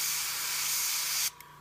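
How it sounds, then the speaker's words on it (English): An airbrush sprays paint onto a Hive Tyrant miniature in a steady, close hiss that holds for over a second and then cuts off abruptly, followed by a faint short burst. "So I'm slowly pulling back on the airbrush."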